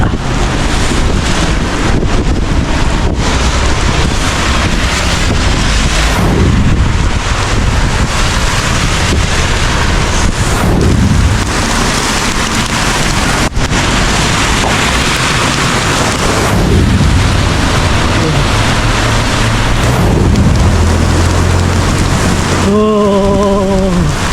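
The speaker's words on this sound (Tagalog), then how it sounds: "Biglang umulan ng pagkalakas-lakas mga kakolor." Heavy rain pours down in a sudden downpour, a loud, continuous roar with strong wind buffeting the microphone throughout, and a brief tonal sound near the end.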